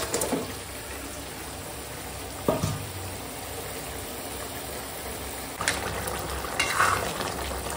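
Fried cauliflower, potato and fish tipped together into a simmering fish curry, giving a steady low bubbling and sizzle with a few sharp splashy clatters as the pieces go in.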